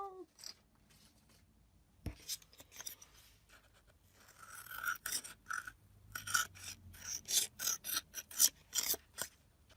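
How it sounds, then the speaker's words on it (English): Paper tag edges being cut and trimmed off by hand, a quiet snip at first, then a run of rhythmic rasping cuts growing louder and closer, alone without talk. "these side pieces here that I'm cutting off"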